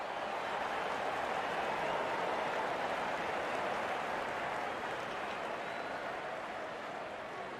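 A cricket crowd at a Bengaluru IPL match applauds a batsman reaching fifty, a broad, steady wash of clapping and crowd noise holding at one level throughout, heard from a distance.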